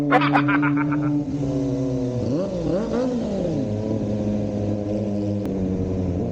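Kawasaki ZX25R motorcycle engine running nearby with steady harmonic tone, a brief rise and fall in revs midway as it pulls away, then settling into a constant drone; short voice-like chirps at the start.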